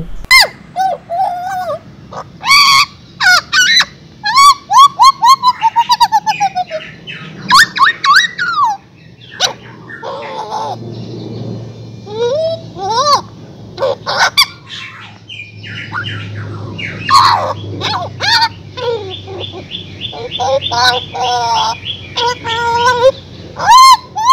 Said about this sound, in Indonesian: burung jagal Papua salah satu burung endemik Papua